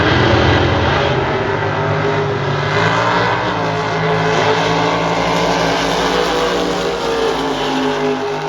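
Super Gas drag racing cars launch at the Maple Grove NHRA national event, a loud, sustained engine roar at full throttle that holds steady and dense for the whole stretch with no speech.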